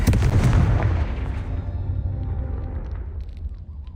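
A Confringo fire-blast spell in the video game Hogwarts Legacy erupts as a loud, close boom, then fades into a long rumbling tail over about four seconds.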